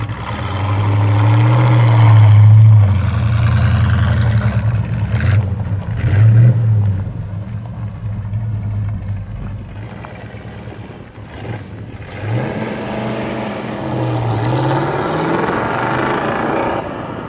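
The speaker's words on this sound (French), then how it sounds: "Le V8 383 donc s'exprime bien, mais j'ai pas non plus été transcendé par sa sonorité." A muscle car's 383 V8 engine revs loudly in strong bursts, drops back to a lower idle-like rumble midway, then builds again into further revving toward the end.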